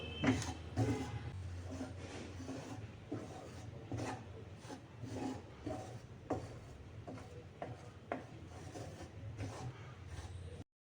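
Wheat flour, 400 g, is dry-roasted in a pan and stirred, making soft rhythmic scraping and rubbing strokes that repeat steadily, quiet and close, with no talk.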